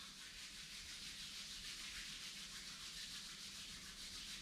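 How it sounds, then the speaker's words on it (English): Palms are rubbed together during a yoga session, a continuous close hissing friction sound that stays even and steady throughout, with no talking. "Rub your palms."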